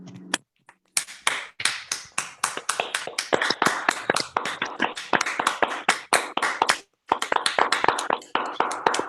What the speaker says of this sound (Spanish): le damos un caluroso aplauso